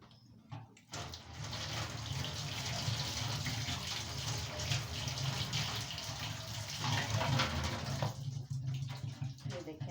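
Water running from a tap while a floor mop is rinsed in detergent (surf) water, a continuous close splashing and gushing that holds steady for several seconds before easing off at the end.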